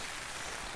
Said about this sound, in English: It's really rainy right now.